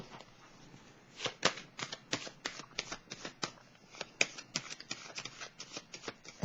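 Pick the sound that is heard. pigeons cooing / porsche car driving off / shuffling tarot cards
shuffling tarot cards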